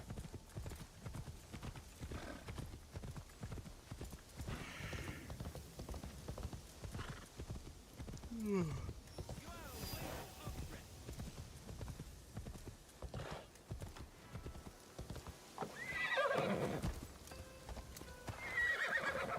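Steady clip-clop of horse hooves in the video game Assassin's Creed Shadows throughout, with a horse whinnying a couple of times partway through and near the end.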